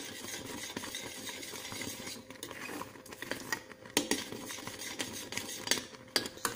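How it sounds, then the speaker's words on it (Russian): A spoon stirs cocoa porridge with sugar in a pot, scraping and clinking in a steady rhythm at close range, with brief louder knocks against the side and no speech. "Сейчас все хорошо перемешиваем"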